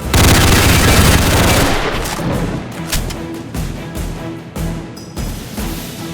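In the Roblox game Darkdivers, a loud, rumbling cave explosion fades out, followed by bursts of rapid gunfire and sharp blasts, near and intense.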